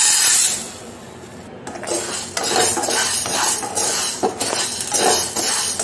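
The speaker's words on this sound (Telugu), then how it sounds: "ఈ బౌల్తో ఒక హాఫ్ బౌల్ వరకు నేను మినపప్పు వేస్తున్నానండి" Urad dal is tipped from a bowl into a pan, giving a brief loud rattle of grains followed by clinking and scraping of metal utensils, close and without speech.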